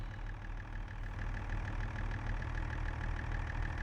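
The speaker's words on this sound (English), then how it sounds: "I just love how this tractor sounds, especially with that straight pipe." A farm tractor with a straight pipe runs during a corn harvest in Wisconsin, a steady, throaty low rumble with a fast regular pulse, close and continuous with no voices.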